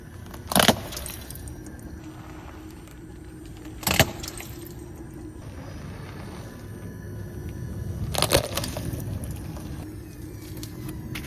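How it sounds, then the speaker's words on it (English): A car rolls over Rubik's Cubes and crushes them, giving three sharp cracking crunches spaced several seconds apart over a steady engine hum. "we're going to be taking these Rubik's Cubes and running over them with the car."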